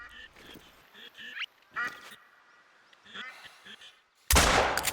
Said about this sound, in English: we're gonna drop him using the 12 gauge cacciatore